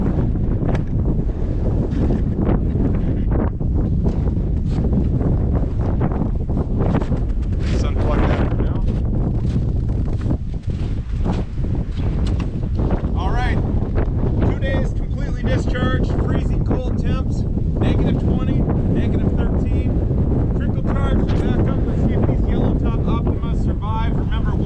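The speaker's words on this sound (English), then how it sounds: "I'm gonna get right out here into the wind, so I apologize. It's actually blowing the tripod around." Strong outdoor wind batters the microphone and shakes a tripod, a loud continuous roar with gusty buffeting and intermittent rattling throughout, with no clear speech over it.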